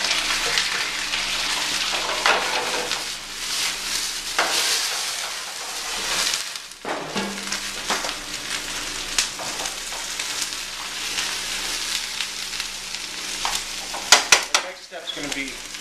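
Greens and beans sizzle in a sauté pan with a continuous bright frying hiss throughout, broken by a few stirring scrapes and a clatter of the pan near the end.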